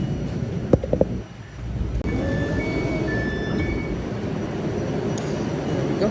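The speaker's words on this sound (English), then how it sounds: "I think I've just missed one because it's saying 4 minutes and I can hear a train" A train rumbles steadily through a Glasgow station with low, continuous mechanical noise and faint tonal squeals from the rails, after a few brief clunks at the start.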